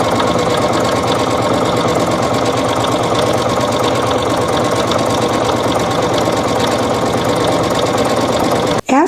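A sewing machine runs a serpentine stitch down the centre of jelly roll fabric strips for a table runner, a loud, steady mechanical whir close by for about nine seconds, stopping abruptly right at the end.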